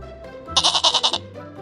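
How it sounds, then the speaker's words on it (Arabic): A goat lets out a single loud, quavering bleat with a fast pulsing tremble, heard close and alone. "goat"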